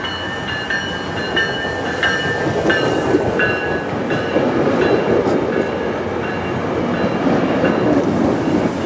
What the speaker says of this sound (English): a meet between a northbound and a southbound commuter train at the Fort Lauderdale station